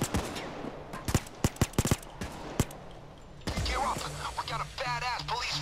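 Gunfire in the video game Payday 2, a sequence of sharp separate shots in uneven rhythm followed by denser rattling fire, up close, with a voice talking over the later part.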